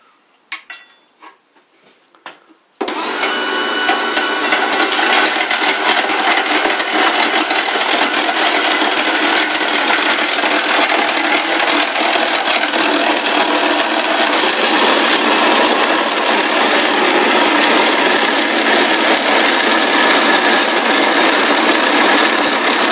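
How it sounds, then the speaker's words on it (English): A family grain mill fitted with a fine grating drum runs on cheese, making a loud, steady grinding and rasping whirr that starts abruptly after a few seconds of quiet clinks and continues unbroken to the end. "I'm going to demonstrate this very fine drum for grating the cheese."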